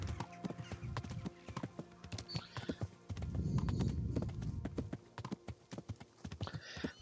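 Horse hooves clip-clop in a steady walking rhythm inside a hardcore-difficulty video game, with a louder rustling stretch midway and a brief whinny-like sound, all fairly close and with no talking.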